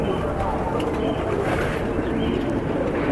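Pigeons, including fantail pigeons, coo in a crowded loft alongside dense bird chatter, with someone talking over them throughout.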